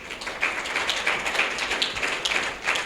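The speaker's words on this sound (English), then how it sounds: "another round of applause" Applause from an audience after a speech at an event about Nigeria's economy, steady dense clapping at moderate level throughout, with no voices over it.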